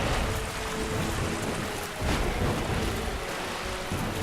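A thunderstorm in the video game Dark Souls, with a steady, dense roar of rain and low rumbling thunder that swells slightly midway, loud and continuous without any voices.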